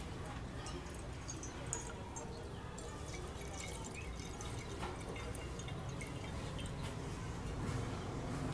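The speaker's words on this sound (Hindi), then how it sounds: "अब जो है इस प्लेट में पानी दे देते हैं" Water poured into a plate, a steady, quiet liquid trickle and drip running under faint background noise for several seconds.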